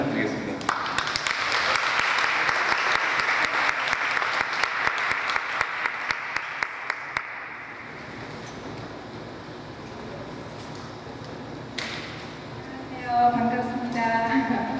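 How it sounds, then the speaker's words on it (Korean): A crowd at a Korean talk event gives a guest speaker a loud, sustained round of applause with sharp individual claps, fading after about seven seconds into a quiet room where a voice begins speaking. "그래서 좀 정말 노래방 같은 박수로 환영을 부탁드리겠습니다"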